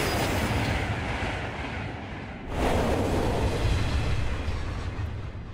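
A train rushes past in the dark puzzle game DARQ, a loud, continuous rumble and rattle that swells suddenly midway as the cars draw close.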